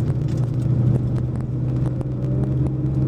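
A twin-spark Porsche engine crawling along at very low speed on a parade lap gives a steady, close, rough low rumble with a constant drone and faint uneven ticks, with no talk over it.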